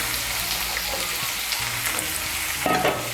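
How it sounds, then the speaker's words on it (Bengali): Potato, pointed gourd and drumstick pieces sizzle in oil, with continuous close frying crackle and occasional stirring scrapes, steady and fairly loud without any voices. "এখন এই সবজিগুলোকে একটু ভেজে নেব।"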